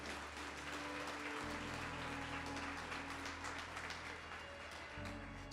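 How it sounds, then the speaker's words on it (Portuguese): A church congregation applauding together, a steady, dense wash of clapping filling the room throughout, with a low sustained organ or keyboard tone underneath. "Você pode aplaudir Jesus por isso?"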